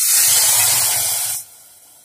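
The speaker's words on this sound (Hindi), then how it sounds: "हम इस स्टेज पर ये तड़का डाल के इसे हम ढक देंगे" A loud hot-oil sizzle from a tempering poured into Rajasthani gatte ki sabji curry spreads across the high range for over a second, then drops away abruptly to a faint residual hiss.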